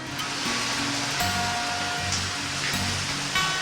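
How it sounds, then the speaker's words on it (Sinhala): Hard, heavy rain comes down outdoors as a dense, continuous roar, loud and steady throughout with no speech. "හයියෙන්ම වහිනවා ඒ පාරනම්"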